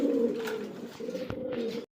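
Pigeons coo at a pigeon farm near Savar, Dhaka: a close, soft, rolling coo repeated over about two seconds, then it cuts off.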